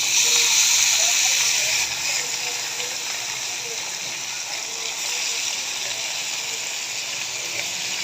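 Rohu and shing fish fry in hot oil with a steady, close hiss and sizzle that runs throughout, slightly louder at the start, under a soft voice.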